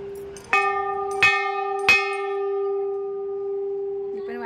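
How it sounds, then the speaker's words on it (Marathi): A large temple bell rings three times in slow succession, each strike clear and close, with a long bright humming ring that lingers and overlaps the next stroke before fading, and a faint voice at the very end. "मी पण वाजवते घंटा आता,"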